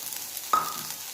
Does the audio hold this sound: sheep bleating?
no